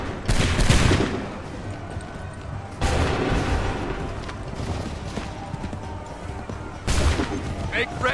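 Musket volleys fired in Assassin's Creed 3 Remastered, three loud crackling fusillades a few seconds apart, each trailing into rumbling battle noise with shouted voices mixed in.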